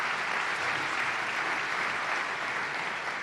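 Steady, dense applause from an event audience at a girls' club gathering, even and sustained throughout with no voices standing out.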